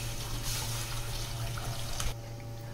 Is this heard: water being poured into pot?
yes